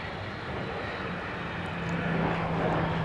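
Airplane arriving at Dallas Love Field, a faint distant engine drone with a steady tonal hum that grows a little louder toward the end.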